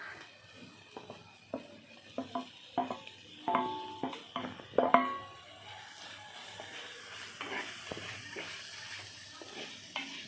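Finely chopped tomatoes sizzle in a pan during outdoor cooking for a buttery gobi masala, with a series of scraping, clinking stirs that quieten into a soft steady fry.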